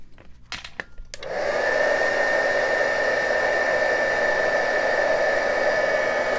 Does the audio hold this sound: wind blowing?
no